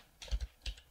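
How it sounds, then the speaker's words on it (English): Typing on a computer keyboard, three or four soft, quick key clicks in a brief burst, close and quiet with no voices. "So I'm just going to type in"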